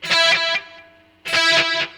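Two distorted electric guitar chords through a BOSS eBAND JS-10 with a delay setting ring out, each trailing off with a repeating echo before the next strikes.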